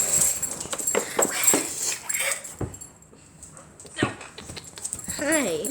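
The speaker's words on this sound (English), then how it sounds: "Yay, she barked." A dog gives a few close barks and whimpers, mixed in with frequent talking from a person nearby.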